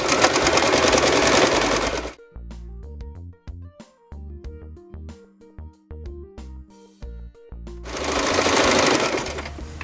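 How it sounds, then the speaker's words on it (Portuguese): A domestic sewing machine stitches a seam along a heart-shaped oven mitt, its fast steady motor whir running loud and close for about two seconds, then stopping; after a pause broken by softer handling sounds, another loud run of stitching starts. "vai colocar o calcador, a nossa agulha, bem em cima do risco e vai fazer essa costura em toda essa parte"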